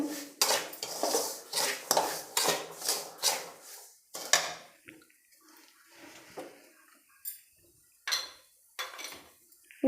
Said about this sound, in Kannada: ಬಾಣಲಿ ಇಟ್ಕೊಂಡು ರವೆ ಹಾಕ್ಕೊತಾ ಇದ್ದೀನಿ ಇದನ್ನು ಚೆನ್ನಾಗಿ ಹುರ್ಕೋಬೇಕು